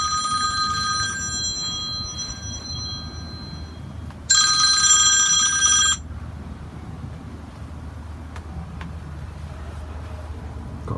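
A mobile phone rings loudly for about a second and a half inside a Bailey Unicorn Cadiz caravan, a bright electronic ringtone rising abruptly out of a quiet, steady background hum.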